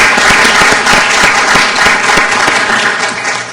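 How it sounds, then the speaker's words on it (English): Loud, close applause fills a county commissioners court session, with distinct individual claps over a dense steady roar that tapers slightly at the end. "If we could give them a big round of applause."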